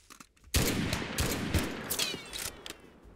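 Gunfire in the war game Mud and Blood, a dense rattling volley of many rapid shots that bursts in suddenly and keeps going, loud and close, with no talking.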